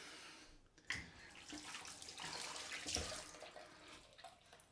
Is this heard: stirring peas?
no